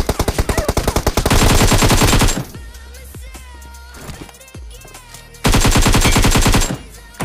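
AKM rifle fire in BGMI (PUBG Mobile) battle royale play: two loud, close bursts of rapid automatic shots with a quieter stretch of scattered clatter between them.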